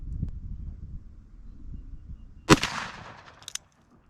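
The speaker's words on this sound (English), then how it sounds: "let's go ahead and fire these last rounds" A Ruger New Model Blackhawk revolver fires .357 Magnum rounds outdoors: one loud, sharp shot after faint handling noise, then a fading tail and a fainter second crack.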